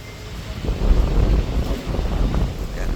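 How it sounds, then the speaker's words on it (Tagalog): Strong typhoon wind gusting along the coast at Subic, Zambales during Typhoon Uwan, a loud, continuous low roar buffeting the microphone in surging waves. "lakas ng hangin, tinatangay pati cellphone ko."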